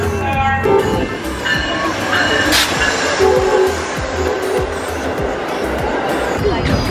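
A train rumbles and clatters into a station with faint wheel squeals while excited people talk and cheer nearby at a homecoming welcome.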